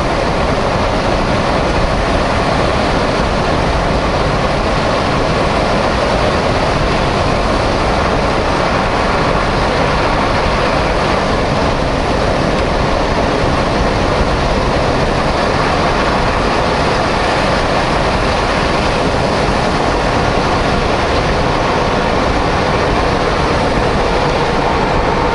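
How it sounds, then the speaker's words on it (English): A big rig truck rolls downhill on a snowy highway with its engine brake on, making a loud, continuous, unbroken roar and rumble with no talking. "I'm gonna turn engine brakes on stage one."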